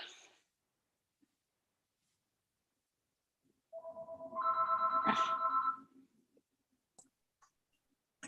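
A telephone rings in a room, a tonal electronic ring of about two seconds, preceded and followed by a few faint clicks, with no voices over it.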